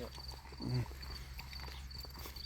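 Faint clip-clop of horse hooves walking in Serfaus, Austria, soft irregular knocks set against a steady low background hum, with a brief murmur of voices near the start.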